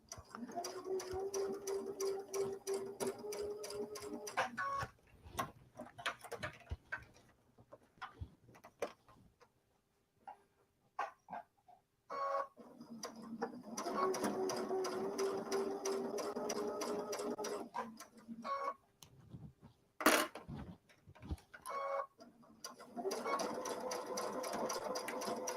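A sewing machine stitches quilt pieces in steady rapid runs, with quiet gaps between the runs as the fabric is adjusted and a few clicks and handling sounds.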